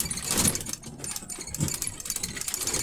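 Truck engine revving through a gear change during a driver training drive, with rising and falling engine surges and a steady mechanical rumble, close and fairly loud, no talk.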